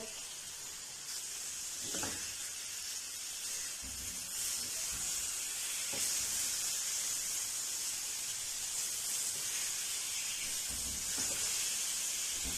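Chicken tikka pieces drying in a pan over medium heat give a steady, soft hiss and sizzle that carries on evenly throughout, with faint clicks from the pan, and no one speaks.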